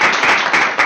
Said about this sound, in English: So let's give our guest a round of applause.